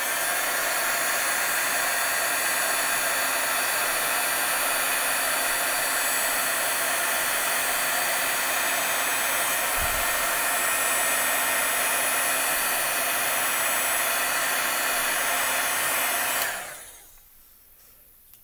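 Heat embossing tool blowing hot air over embossing powder on a greeting card, a loud steady whooshing roar that runs unbroken for about sixteen seconds, then cuts off to near silence.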